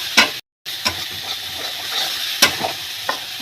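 Spicy mustard bhola fish curry sizzles and fries in a pan while a spatula scrapes and stirs it in sharp strokes, with a short silent gap, close and steady, and no voices.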